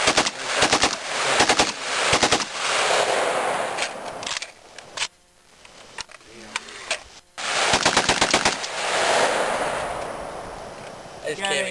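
Bursts of full-auto fire from a Saiga 12-gauge shotgun at a gun range, sharp rapid reports in several long strings separated by short pauses, loud and close.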